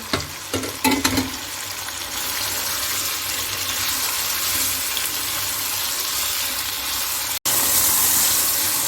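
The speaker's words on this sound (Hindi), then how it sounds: "इसमें टमाटर डालेंगे और तेज आंच पर टमाटरों का पानी खुश्क करेंगे।" Chicken pieces and tomatoes sizzle hard in a karahi over a high flame, a steady loud hiss of frying with a few stirring clatters at the start, no voices.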